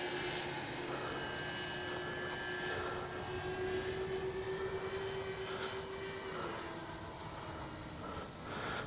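An RC B-25J warbird scale model airplane passes overhead with its landing gear down, a steady engine drone with a rising and falling tone, moderately loud and continuous, no talk.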